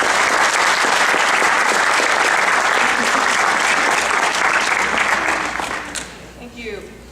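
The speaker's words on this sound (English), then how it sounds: "So if we could give her a big round of applause." A crowd applauds loudly and continuously for a martial arts federation figure at a martial arts motivation talk, the dense clapping fading out near the end.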